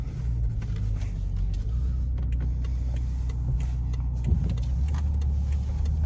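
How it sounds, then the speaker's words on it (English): A BMW X5M SUV cruising in automatic mode, its engine giving a low steady rumble with road noise inside the cabin, even and continuous with no talking. "And we will start the drive in just the normal automatic mode, letting it shift itself."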